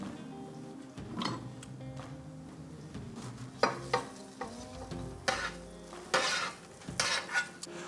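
Truffle mushrooms sauté in a saucepan, a soft, close sizzle broken by clinks and scrapes of a utensil stirring against the pan, with occasional sharper knocks.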